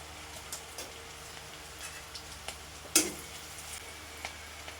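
Cumin and black cumin seeds sizzle faintly as they hit hot oil in a frying pan, with scattered soft ticks and pops and one sharper crackle partway through.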